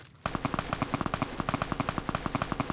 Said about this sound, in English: we're back to this asshole firing his machine gun